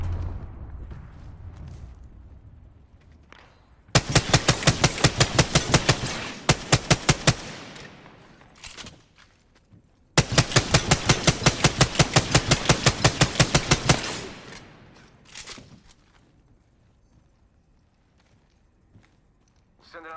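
Rapid automatic gunfire in a shooter video game comes in two long loud bursts of evenly spaced shots separated by a pause, with voices talking at the start and end.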